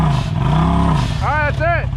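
An off-road side-by-side crawls over rocks on a Windrock trail, its engine holding a loud, close, steady low rumble with slight rises in pitch, while voices call out over it in short bursts toward the end.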